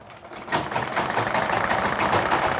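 Close and fairly loud, a sewing machine stitches a skirt seam, its needle chattering in a fast, even mechanical rhythm that runs continuously.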